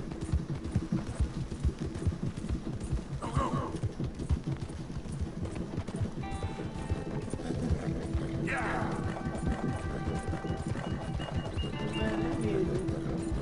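Steady clip-clop of horse hooves in a continuous trotting rhythm from the video game Red Dead Redemption 2, with a voice speaking over it and brief whinny-like calls partway through.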